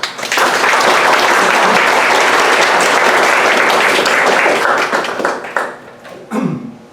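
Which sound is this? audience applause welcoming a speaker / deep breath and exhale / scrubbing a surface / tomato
audience applause welcoming a speaker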